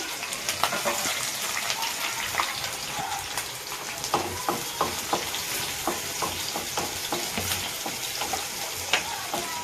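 Whole spices (cardamom, cloves, a small cinnamon stick) with green chillies and onions fry steadily in a pan, a continuous sizzle with clicks of stirring for vegetable fried rice; no one talks.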